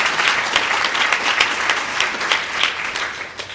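An audience at a recognition program for National Merit Scholar semifinalists applauds the students, a loud sustained patter of many hands clapping, steady and close, tapering slightly at the end.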